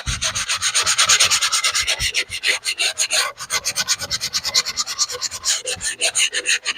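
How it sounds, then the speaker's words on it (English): Coarse 80-grit sandpaper rubbed by hand in quick, rhythmic back-and-forth strokes, close and fairly loud, continuing steadily throughout with no talking. "So you just take a scrap piece of sandpaper or a belt sander. This is 80 grit, so it'll go really quick."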